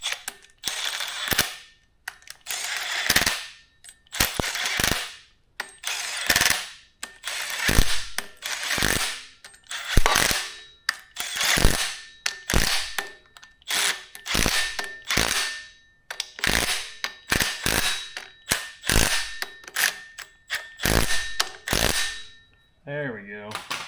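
A hand ratchet tightens a bolt on a Cummins engine with bursts of rapid clicking pawl strokes. The strokes come in uneven rhythmic runs close to the microphone, with brief pauses between pulls.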